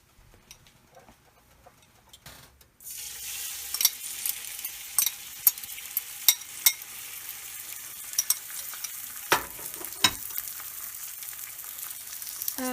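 Oregano sizzles and fries in a pan on the stove, starting abruptly after a quiet lead-in and continuing as a steady crackling hiss with sharp pops and spatters, close and fairly loud, with no voices.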